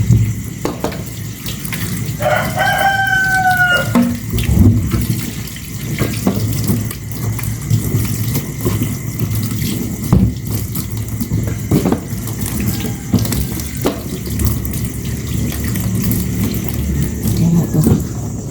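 Running tap water splashes steadily while sweet potatoes are washed one by one in a home kitchen, with a brief high squeak early on and continuous watery rush throughout.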